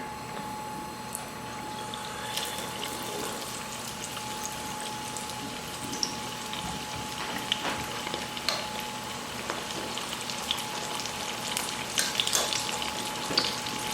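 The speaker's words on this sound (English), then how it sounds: "One by one, we're going to deep fry the tilapia. So we're going to place it in." Tilapia fish deep fries in hot oil with a steady crackling sizzle, dense and close, with sharper pops growing louder toward the end.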